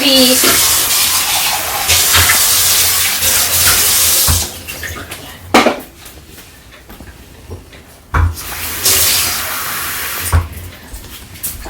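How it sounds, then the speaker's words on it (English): Water poured from a tap into a pot of cooking grits on the stove, two loud bursts of running water broken by quieter pauses with clanks and someone talking in between. "I'm going to add in a little bit of water, and that's just to make sure that the grits are really cooked through."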